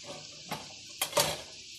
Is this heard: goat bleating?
no